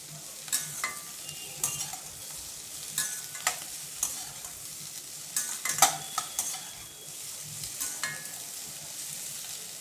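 Onions sautéing in a pan for onion chutney keep up a constant close sizzle, broken by repeated scraping stirs and clinks of a utensil at an uneven pace, with no speech.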